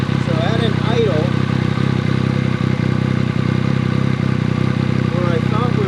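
A motorcycle fitted with an SC Project CRT exhaust idles outdoors with a steady, loud low rumble throughout, while a person talks over it.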